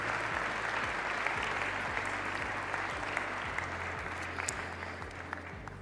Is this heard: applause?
yes